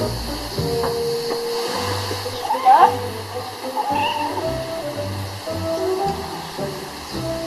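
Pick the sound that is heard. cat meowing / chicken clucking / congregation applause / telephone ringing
cat meowing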